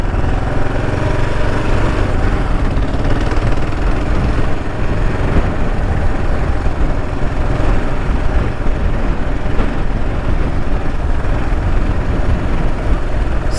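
A Kawasaki KLR 650 dual sport motorcycle rides a rough forestry road, its single-cylinder engine droning loud and steady for the whole stretch, close up with wind noise and no talking.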